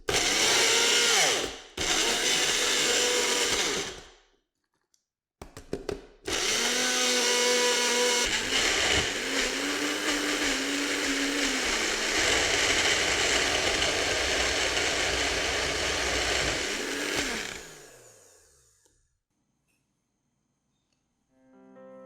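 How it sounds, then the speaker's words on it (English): An electric blender grinds ginger into paste with a loud steady whir, stopping briefly and restarting twice, with the motor pitch shifting as the mix thins before it spins down. "Blend it till it's fine."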